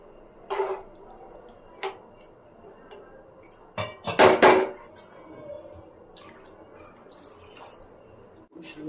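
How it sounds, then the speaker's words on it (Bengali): Pots and dishes are washed and scrubbed in a home kitchen: sporadic clinks and knocks over a soft trickle of water, with a denser burst of clattering in the middle, all fairly close. "এখানে দেখছি অনেকগুলো বাসন জমে গেছে, তো আমি এগুলোকে এবার ধুয়ে নেবো, আবার মেজে নেবো"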